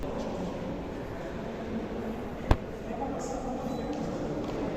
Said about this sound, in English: So, let's get on a train and head over into Germany.